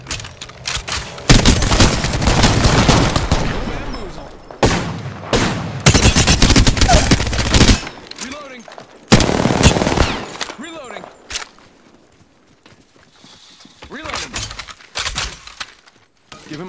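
Video game gunfire: loud bursts of automatic fire and booms come in several volleys with brief gaps, then fade to quieter scattered shots and a voice speaking.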